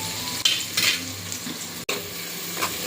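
Sliced onions fry with cinnamon, cloves and cardamom in a pan for bagara rice, a loud continuous sizzle with scraping stirs and a brief clank partway through.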